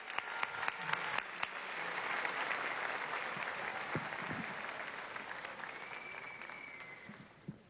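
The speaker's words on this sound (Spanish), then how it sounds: "Recibámoslo con un aplauso para que tenga su derecho de palabra el día de hoy aquí." Audience applause welcoming a speaker at a Venezuelan communicators' congress, beginning with scattered claps, swelling into steady sustained clapping from a hall crowd, then thinning out to a few final claps.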